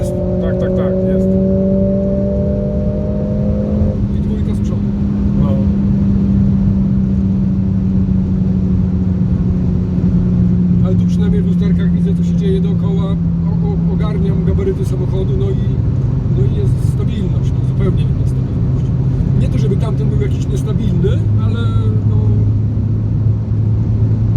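Mercedes-AMG A45 S, 421 hp, under full-throttle acceleration from inside the car, a loud continuous engine drone rising steadily in pitch with gear changes, while someone talks over it.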